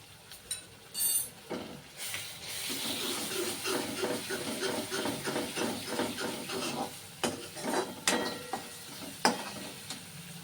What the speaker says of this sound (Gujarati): ત્યારબાદ આપણે આદુ મરચાં અને લસણની પેસ્ટ એડ કરીશું